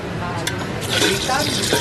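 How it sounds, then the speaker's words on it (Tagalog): Water being poured into a cooking pot for Filipino tinola chicken soup made on a rooftop, a close splashing gush building into a steady fill with some light clatter. "Ngayon kukuha tayo ng tubig para ilalagay natin dyan."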